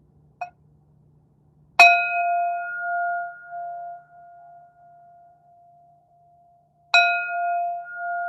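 A meditation bell is struck twice during a yoga session for veterans, each strike a clear, bright ring that hangs and slowly fades in a quiet room, after a faint tap.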